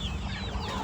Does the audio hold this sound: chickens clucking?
yes